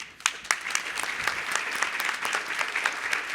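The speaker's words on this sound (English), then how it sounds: "So let's give another round of applause for our speakers, for Carlos and Robert." Audience applause at a Latino political mobilization event, a room full of steady clapping that starts sharply and holds at an even, dense level, close and lively with a few louder individual claps standing out.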